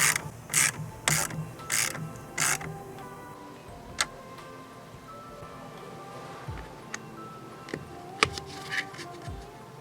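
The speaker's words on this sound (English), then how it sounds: "And retighten the fastener." A ratchet clicks in quick short bursts while retightening a battery terminal fastener on a 2016 Mercedes-Benz GLC300 during a battery install, followed by quieter scattered metallic ticks and small mechanical taps nearby.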